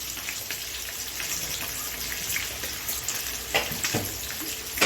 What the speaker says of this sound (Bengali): আমরা হলুদটাকে ফ্রাই করে নিচ্ছি